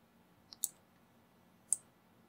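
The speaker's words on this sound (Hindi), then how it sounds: "इसको यहाँ पे क्लिक किया" Computer mouse clicks while working in Blender: three sharp, isolated clicks, two close together and one a second later, against a quiet background.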